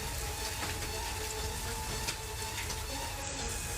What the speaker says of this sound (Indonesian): Angin kencang disertai hujan deras mengguyur wilayah desa Berkah dan Bojong Galing